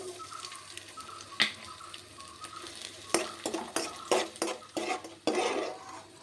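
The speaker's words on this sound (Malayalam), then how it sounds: "ഇനി മുന്തിരി ഇട്ട് കൊടുക്കാം" Raisins frying in ghee in a pan, a soft sizzle under repeated scraping and clinking as a spoon stirs them, with louder bursts of stirring toward the end.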